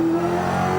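Holden V8 Supercar engine in a 2001 race, heard from the onboard camera of Mark Scaife's car: a loud, steady high-revving roar with a slowly rising pitch, close and alone.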